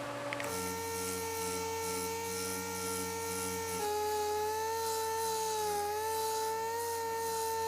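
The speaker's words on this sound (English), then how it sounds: "I've got my orbital sander here. We've got some 80 grit sandpaper." An orbital (DA) sander running with 80 grit sandpaper on a cracked plastic bumper cover, a steady close whirring drone with a sustained tone that shifts slightly midway, continuous and alone.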